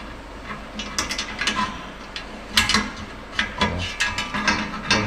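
Metal ratcheting and clicking as a C-clamp is cranked tight against a welded wedge on a turbo exhaust collector, a run of sharp close clicks in uneven bursts over steady shop noise.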